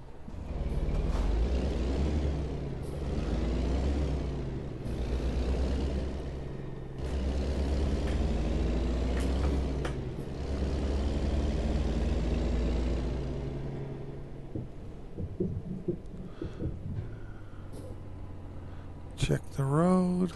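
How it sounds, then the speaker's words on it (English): Kenworth truck engine in American Truck Simulator, a loud low diesel drone that rises and falls through gear changes, then drops to a quieter idle with a brief hiss near the end. "So it looks like we're in a Kenworth today."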